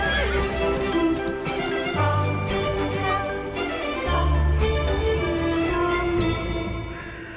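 A young horse whinnies loudly and repeatedly while its hooves clip-clop on a hard surface, the neighs rising and falling over continuous hoof beats, close and prominent throughout.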